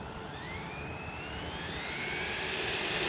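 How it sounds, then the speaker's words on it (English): A Hosim X08 RC truck's electric motor running at maximum speed, a steady high whine that rises in pitch as it accelerates over a constant rushing noise, no talking. "Max speed, let the motor warm up."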